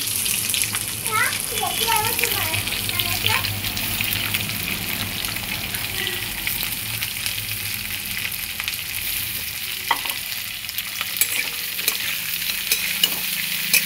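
Cauliflower paratha filling frying in a pan sizzles under steady stirring and scraping, with some soft clatter and faint background noise, and no clear speech.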